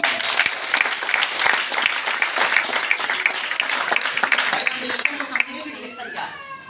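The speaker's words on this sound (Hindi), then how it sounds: "एक जोरदार ताली" Loud, sustained applause fills a DXN business meeting at a new office in Patna, dense clapping from a crowd for several seconds before thinning out toward the end.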